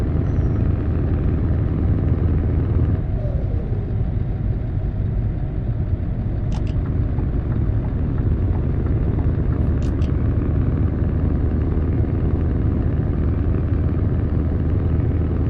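Truck engine in Euro Truck Simulator 2 rumbling steadily and loudly for the whole stretch, a dense continuous low drone with a couple of brief high clicks, no talking.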